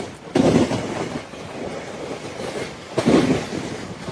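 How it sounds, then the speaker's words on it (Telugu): A goods train rolls along the railway near a Nallamala-side line in Andhra Pradesh, heard as a steady rumbling roar with two louder bursts of clattering wheels passing close by, and no voices. "నల్లమల సైడ్ నుంచి వచ్చింది గూడ్స్ ట్రైన్."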